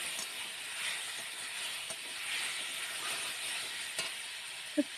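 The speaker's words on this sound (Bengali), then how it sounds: "নিয়ে আবার পরিমাণ মতো জল দিয়ে দেবো।" Water is added to mashed elephant apple (chalta) chutney frying in a pan with turmeric and salt, producing a faint, even hissing sizzle with a few light taps, no voices.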